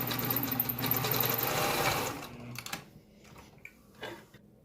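Sewing machine running steadily while top stitching a garment from the center back seam, a loud continuous whir for about two seconds, then stopping and leaving faint handling clicks and rustles.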